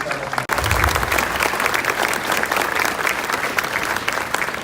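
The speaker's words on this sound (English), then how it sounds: "Let's take a big round of applause for all of the Sam Rayburn Shining Stars." An event audience applauds the Sam Rayburn Shining Stars, a sudden burst of loud, dense clapping that starts after a brief cut and keeps going evenly to the end.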